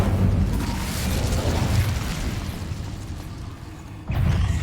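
The fire spell Incendio is cast in the game Hogwarts Legacy, a loud rumbling whoosh of flame that fades out, then a fresh burst near the end.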